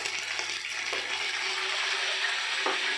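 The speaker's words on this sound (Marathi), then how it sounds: "तर थोडंसं तेल उडते पण काही हरकत नाही आहे" Hot oil spatters and sizzles in a pan where ginger-garlic paste is cooking for spinach gargata, a steady bright crackle with a few louder pops, close by and without talk.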